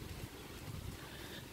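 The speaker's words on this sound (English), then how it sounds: "It's quite windy." Steady wind from Hurricane Florence rushing and buffeting close to the microphone, a continuous low roar with no voices.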